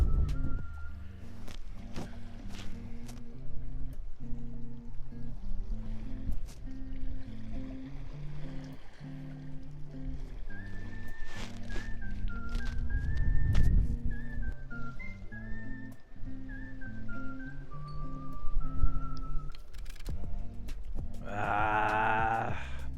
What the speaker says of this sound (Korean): 와 바람 바람